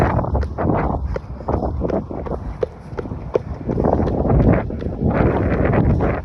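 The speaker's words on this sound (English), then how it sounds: "I'm into a strong headwind now" A strong headwind buffets the microphone during a marathon-distance run, with gusty rumbling blasts rising and falling over rhythmic footfalls, loud and close throughout.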